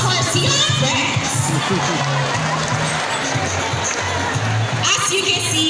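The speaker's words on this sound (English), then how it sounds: "Another round of applause for sea lion friends" At a sea lion show, a crowd cheers and shouts, children's voices rising above a busy mix of noise and chatter, loud and close for the whole stretch, with voices talking throughout.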